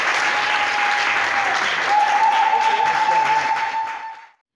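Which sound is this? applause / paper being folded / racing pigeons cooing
applause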